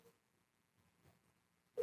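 An outgoing telephone call rings through the earpiece. The ringback tone is faint and distant at first, then a louder ring begins right at the end.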